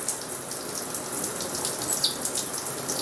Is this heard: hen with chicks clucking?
no